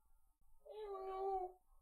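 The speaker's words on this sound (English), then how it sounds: "He is the biggest of the cats." A single drawn-out meow from a big domestic cat, clear and close, rising and then fading, with only a faint low background hum around it.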